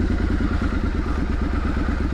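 A Triumph Street Scrambler motorcycle rides through a town centre, its engine giving a steady, loud, throbbing exhaust note with rapid regular pulses and light mechanical clatter throughout.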